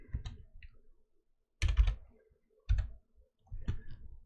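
Bursts of clicking and key taps from a computer keyboard and mouse, arriving in three or four short clusters separated by brief quiet gaps, close and fairly faint.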